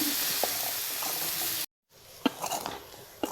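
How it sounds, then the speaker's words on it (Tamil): Boiled chickpeas and grated coconut are sautéed in a pan for masala sundal. A steady hiss of frying comes first, then after a brief break there are scattered scrapes and clinks of stirring. "தேங்காய் பூ சேர்த்து நல்லா வதக்கிங்க"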